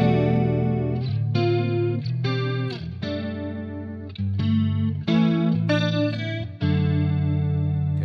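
Electric guitar run through an Arion stereo chorus pedal, playing sustained chords with a thick, shimmering chorus wash; several strummed chord changes ring loud and alone with no talking.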